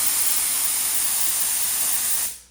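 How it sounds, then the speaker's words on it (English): A BISSELL SteamShot Deluxe steam cleaner blasts a loud, steady, broad hiss of steam at full force, then cuts off abruptly at the end. "So it's a lot of steam that comes out."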